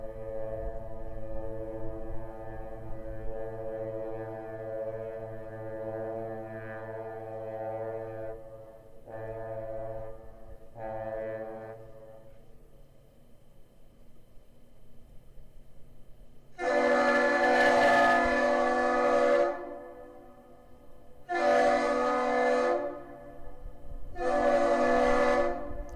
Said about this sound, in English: The ship initiates the greeting with one long blast, followed by two short blasts, and the bridge responds with the same thing.